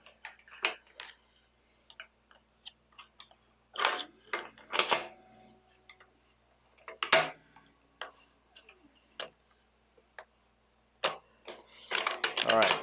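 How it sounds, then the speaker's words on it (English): A brass scraper pries and taps hardened melt free from a band welder, giving a series of sharp metallic clicks and scrapes in irregular bursts, close and fairly loud, with quiet gaps between. "we have this brass scraper to just kind of pop everything free"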